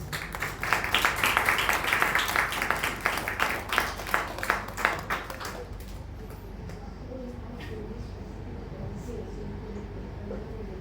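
A church congregation at a Sunday service claps in a dense, steady burst of applause for about six seconds, then it fades into a quiet room murmur.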